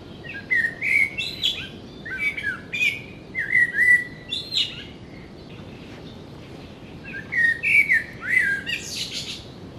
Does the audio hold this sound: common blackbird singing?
yes